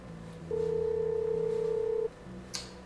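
A telephone call rings out unanswered, heard as a steady electronic tone lasting about a second and a half over a low room hum, followed by quieter background sounds.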